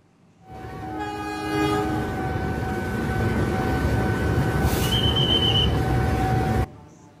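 A Bangunkarta passenger train rumbles loudly past at close range over a level crossing near Pasar Senen, Jakarta, its horn sounding in long blasts near the start, until the noise cuts off abruptly.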